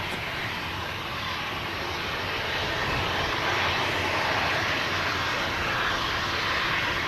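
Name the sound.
charter plane engines at Manchester Airport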